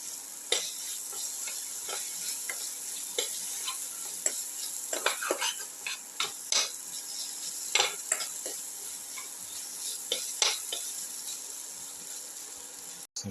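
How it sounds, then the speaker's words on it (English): Ginger, onion and tomato mix being sautéed in a pan: a steady close sizzle under repeated sharp scraping clicks of stirring, irregularly spaced throughout. "Keep on sauteing, thoroughly saute mix."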